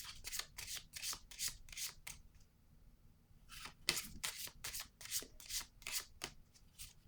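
Tarot-style cards shuffled and drawn for a reading: a run of crisp, close riffling and sliding flicks in quick bursts, a brief pause, then more rapid card snaps, alone without talk.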